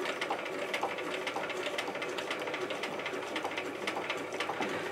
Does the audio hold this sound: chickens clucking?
no